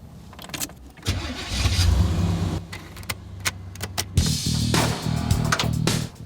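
A 35-year-old Pontiac Firebird Trans Am GTA starts up after restoration: key and switch clicks, a loud close engine crank catching into a rumbling idle with revving surges, no talk.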